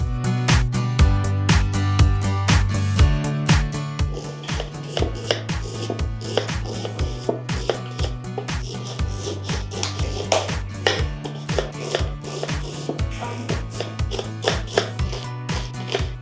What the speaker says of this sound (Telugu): ఉల్లిపాయలు, పచ్చిమిరపకాయలు సన్నగా కట్ చేసుకోవాలి.